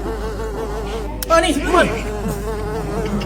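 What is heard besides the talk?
fly buzzing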